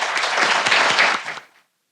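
Audience applause welcoming a guest speaker at an evening lecture event, a dense, steady wash of many hands clapping for over a second before tapering off quickly into silence.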